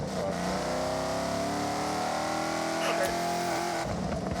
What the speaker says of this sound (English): Let me know if this car's too loud